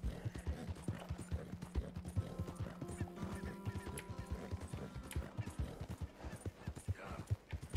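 Horse hooves clip-clop in Red Dead Redemption 2, a steady, fairly close rhythmic trot of in-game footfalls running throughout, with a whinny and other game sounds layered in the background.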